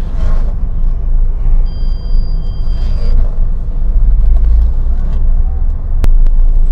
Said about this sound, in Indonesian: Sekarang kita cobain aja mobilnya.